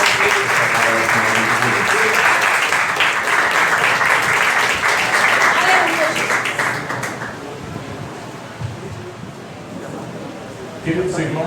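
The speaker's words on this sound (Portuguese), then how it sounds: "Vamos receber com palmas ao Senhor Jesus" A church congregation breaks into loud, sustained applause that fills the space for several seconds, then fades as a voice speaks over the thinning claps.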